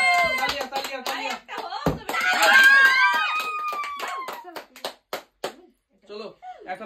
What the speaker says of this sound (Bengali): একটা তালিয়া তালিয়া তালিয়া